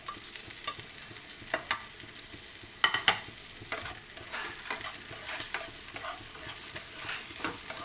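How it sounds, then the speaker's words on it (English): Ginger and tomato sautéing for chicken curry, a steady close sizzle and fry with repeated scraping stirs of a spatula in the pan, continuing without talk. "Then we have to saute again until the tomato it gets smushy, like becomes soft"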